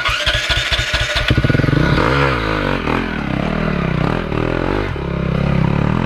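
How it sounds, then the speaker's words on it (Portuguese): A dirt-trail motorcycle nearby sputters with a few sharp pulses, then catches and revs loudly, its engine note rising and falling while it idles and pulls away on the rough track. "essa moto é forte pra caralho"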